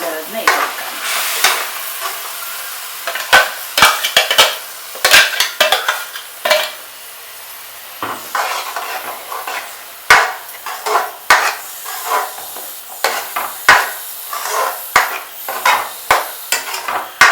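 Ground tomato paste hits a pan of sizzling masala for channa masala, with a steady hiss of frying beneath repeated scrapes and clinks of a spoon stirring against the metal pan.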